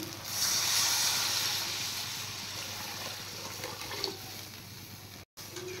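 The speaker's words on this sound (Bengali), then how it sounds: "এবার জল দিয়ে দিচ্ছি।" Water is poured into a pan of fried spice masala, giving a steady hissing, sizzling rush that starts loud and slowly settles into a softer simmer, heard alone without talk.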